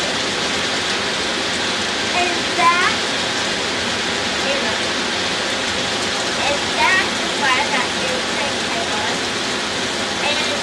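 Rain falls outdoors as a loud, steady hiss of broadband noise that lasts throughout. Faint voices surface briefly underneath.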